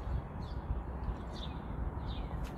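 Faint, scattered bird chirps come from a distance outside a house stoop on a chilly morning, a few brief calls over a steady low background hum.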